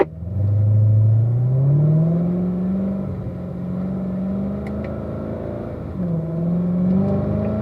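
A Corvette takes an easy warm-up lap on a race track, its engine droning loudly and close with a rising rev at the start, then a steady cruise and a second brief rise.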